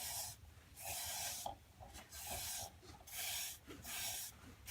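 A microfiber towel rubs finish onto a segmented wooden bowl in repeated soft swishing strokes, each a brief hissy rub separated by short pauses, close and quiet.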